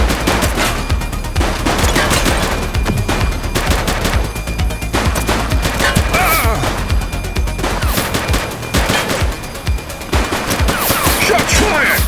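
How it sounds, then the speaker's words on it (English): Sustained gunfire in the police video game The Precinct: rapid bursts and volleys of shots crowd the whole stretch, loud and close, with a voice briefly calling out under the firing. "Shots fired!"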